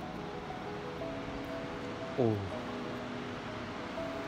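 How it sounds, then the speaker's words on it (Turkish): Fırtına Stream in Çamlıhemşin, Rize, flowing full and fast, gives a constant broadband rush at close range. A voice briefly exclaims over it midway. "Fırtına Deresi çok güzel, gür bir şekilde akıyor."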